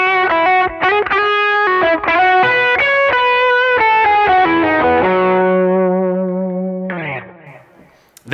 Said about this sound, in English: Drive plus is our Tube Screamer sound.